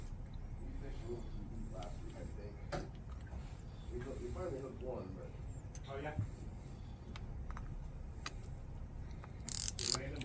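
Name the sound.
Shimano Talica 16 fishing reel clicker ratcheting after lubing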